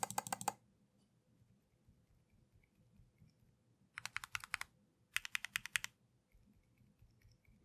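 Typing bursts come from a Keychron Q1 custom mechanical keyboard fitted with damped switches, heard as short clusters of rapid crisp clicks separated by quiet gaps, close and fairly soft.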